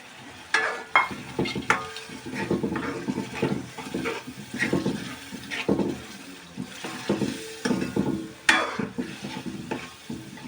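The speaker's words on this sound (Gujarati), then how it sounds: "હવે આપણે એડ કરીશું દહીં" Yogurt is stirred into a simmering chicken bhuna masala gravy in a pan, giving steady rhythmic scraping and wet squelching strokes with a faint sizzle, close and moderately loud with no talking.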